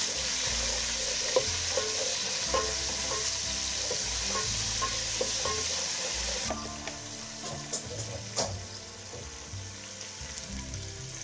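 Garlic and ginger fry in a pan for a moong masoor dal kadhi, giving a steady close sizzle with scattered small pops and stirring scrapes throughout.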